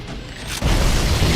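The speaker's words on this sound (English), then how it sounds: "I think that grunt just grenaded himself." Grenade blast in the Halo Anniversary game, a sudden heavy boom about midway through that leaves a rumbling, crackling roar, with a faint whoosh just before it.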